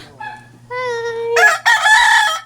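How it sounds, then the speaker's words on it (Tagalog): A rooster crows nearby, a long rising and falling call with a strained, drawn-out ending, loud and clear over a faint low hum. "May manok pa."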